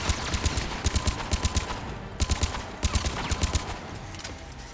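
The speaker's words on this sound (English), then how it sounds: "Can you stop shooting me?" Gunfire in the video game Mass Effect 3: loud bursts of rapid shots in clustered volleys, repeating every second or so with brief pauses between them.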